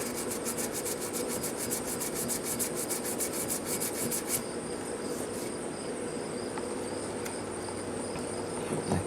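Sandpaper rubbed by hand over a Stratocaster guitar body to smooth dings, a close rhythmic scratchy rasp of quick back-and-forth strokes that then settles into a steadier, softer scraping, no talking.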